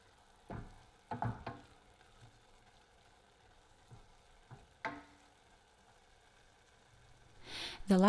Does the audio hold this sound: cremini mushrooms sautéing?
yes